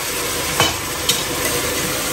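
Fishballs and potatoes get stirred in sauce in a pan, a gentle continuous bubbling sizzle with a couple of soft spoon knocks, close and even, with no voices.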